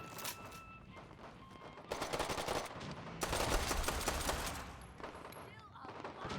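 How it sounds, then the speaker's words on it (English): Bursts of gunfire in modded Fallout 4 as an enemy blind-fires around a corner, with rapid automatic volleys coming in waves and a few single shots between them, fairly distant and muffled against steady game ambience. "He's firing around the corner, blind firing."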